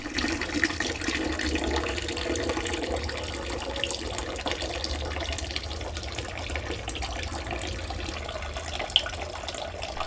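Water trickles steadily at a low, minimum flow through a Parkside irrigation timer, a constant close hiss with no talking, unbroken for the whole stretch.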